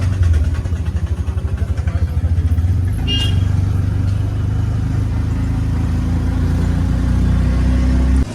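Riding in a shared auto rickshaw to Triveni Sangam, with a loud, close, rumbling engine throbbing steadily throughout and a brief higher rattle partway through.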